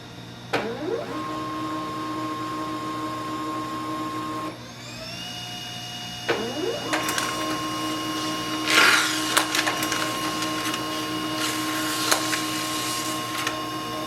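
A Pantum P2500W laser printer printing a page: steady mechanical whirring with rising motor tones, a brief pause, then feeding and clattering bursts as the sheet moves through, close and moderately loud.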